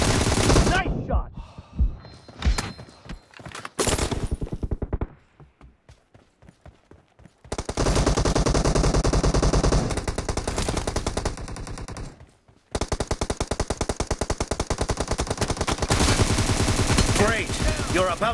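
Automatic rifle fire from M4-16 and M762 guns in a team deathmatch video game, loud rapid bursts and sustained volleys with a quieter gap in between, brief voice chatter at the start.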